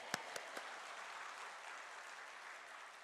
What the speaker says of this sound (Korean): 이분들 찬양 소리보다 더 크게 아멘 하고 박수 쳐주고